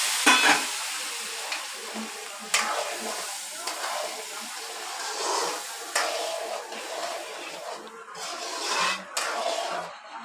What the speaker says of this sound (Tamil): எல்லாம் போட்டு நல்லா செவக்கிற வரைக்கும் கிண்டணும்